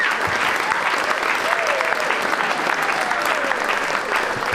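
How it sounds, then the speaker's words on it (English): Audience applause after an evening performance show, a loud, dense, continuous wash of clapping from a full crowd that stays even from start to finish. "let's have a round of applause for everyone we saw tonight"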